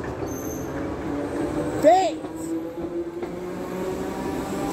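A Class 777 electric train, unit 777010, rolls through Seaforth and Litherland station with a steady rumble and a brief sharp wheel squeal midway, while someone talks excitedly over it.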